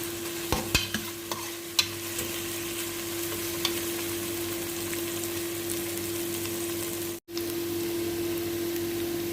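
Chicken wings and breast pieces frying in a pan, a continuous broad sizzle with a few sharp spatula scrapes and taps early on, steady and close with a brief dropout near the end.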